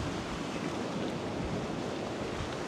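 Steady roar of heavy surf and strong wind on a beach in Boracay, Philippines, a dense continuous wash of crashing water with no voices.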